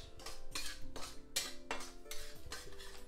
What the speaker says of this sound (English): Just Keep stirring the suji into the ghee.